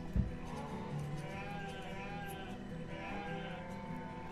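Sheep bleat in the medieval town-building game Banished, a few soft wavering calls repeating over a steady ambient bed of farm and village noise, moderately near and without speech.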